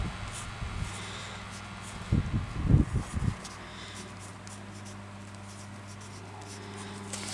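A pen scratches across paper on a vintage-style lace journal in a quiet room: a short cluster of close, scratchy strokes in the middle, with soft background hiss before and after.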